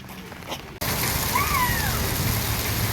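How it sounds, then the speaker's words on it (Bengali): Steady rain hisses across the whole clip, a brief quieter moment at the start, with a faint whistling tone in the middle. "কেমন বৃষ্টি হচ্ছে না"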